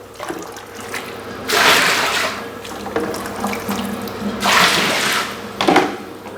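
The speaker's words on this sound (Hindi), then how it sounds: "और तेज़ गर्म पानी इसमें डाल दें।" Hot water poured into a bathtub, splashing and gushing in two loud pours separated by quieter trickling, close by with no talk.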